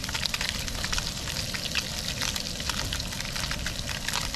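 Crappie fillets frying in a pan over an open campfire, a steady dense sizzle with crackling pops running continuously and evenly, close and moderately loud, no talking over it.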